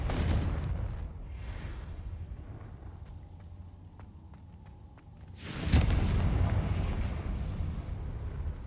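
Confringo fire-blast spell cast in Hogwarts Legacy, a sudden loud explosive burst near the end following a quieter stretch of low rumble and faint magical tones, with a roaring tail afterward.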